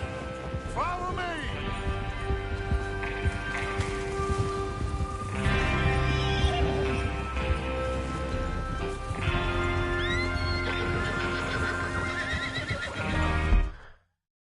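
Several horses whinny and neigh loudly over a steady backdrop of hoofbeats and ambient game sound in Red Dead Redemption 2, ending abruptly.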